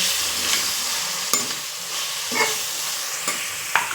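Onion and tomato saute in hot oil for dal khichdi, a continuous bright sizzle broken by several stirring scrapes, close and loud.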